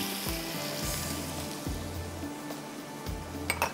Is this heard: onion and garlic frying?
yes